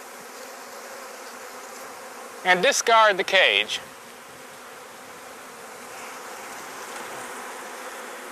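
Honey bees in a hive swarm around a queen cage being shaken clear during queen release, their steady, dense buzzing drone running throughout, with someone briefly speaking over it midway.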